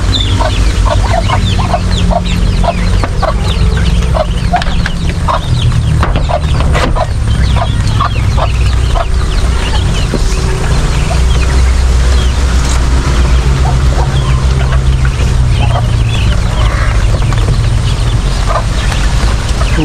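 Backyard farm chickens clucking steadily throughout, with repeated close clucks over a constant low hum and rustle, plus occasional louder calls.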